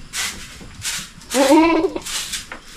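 A male Anglo-Nubian goat on a farm gives a loud, wavering bleat in the middle, framed by scattered rustling, thumps and bits of background noise before and after.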